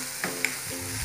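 Carrots seasoned with salt and chili powder sauté in a pan, giving a steady close sizzle with a couple of faint clicks from stirring, no voices.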